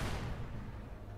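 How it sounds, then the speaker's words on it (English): An explosion goes off in the Star Citizen video game as a short, muffled, low rumbling burst that fades quickly and stays fairly quiet, with no talking. "That sounded like an explosion."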